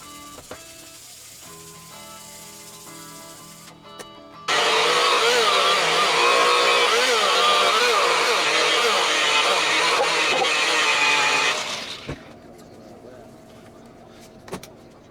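A power buffer works on a wet-sanded Telecaster guitar neck, a loud, steady whirring drone with a harsh, hissy edge that starts abruptly, runs for about seven seconds and then cuts off, with quieter handling noises before and after.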